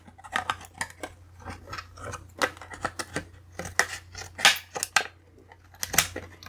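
Scissors cutting the edges off a vacuum-formed plastic windshield for a diecast model, a close series of crisp snips and crackles in an irregular rhythm with short gaps between cuts.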